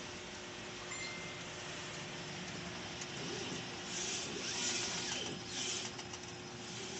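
A printer runs a nozzle check, giving a constant dense mechanical hiss and hum that swells slightly midway, heard close with no talking.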